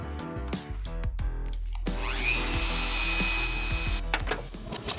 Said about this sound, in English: Got my Dremel.